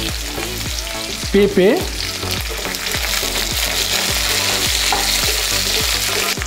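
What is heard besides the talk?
potatoes, sweet potato and drumsticks frying in oil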